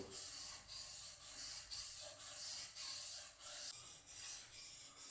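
A knife blade rubs back and forth across a whetstone in an even rhythm of about a dozen rasping strokes, close and quiet, with no one speaking.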